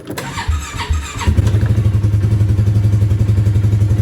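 A Polaris off-road vehicle engine cranks briefly with a clattering start, then catches and settles into a steady, loud, rumbling idle close by.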